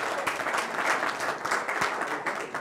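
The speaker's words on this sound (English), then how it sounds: "I always like that when people clap just because you're still alive." A roomful of people clapping for a 101st birthday at a Torah study gathering, lively uneven applause with individual claps audible, rising and falling over a couple of seconds.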